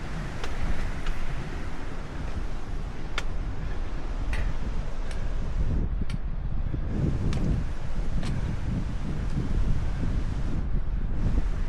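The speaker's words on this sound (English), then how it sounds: "these gusts of the wind." Wind buffets a microphone in rough low gusts throughout, with faint regular ticking clicks scattered over the blustery roar and no voices.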